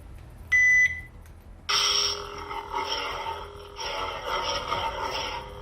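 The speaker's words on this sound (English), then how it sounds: "you got very nice ignition sounds, switch blade effects" An SN Pixel Ghost lightsaber gives a brief electronic chirp, then ignites into a bright buzzing hum that wavers with swings and flickers, heard up close for several seconds.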